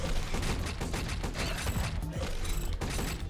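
Weapon fire in the rogue shooter Blade Assault, a dense run of rapid mechanical shots and clattering impacts that holds steady for the whole stretch, layered over game sound effects with no talk.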